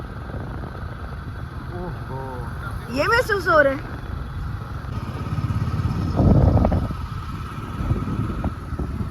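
A motorcycle ride along a city road at night, with a steady, rumbling engine drone running close throughout while people talk over it.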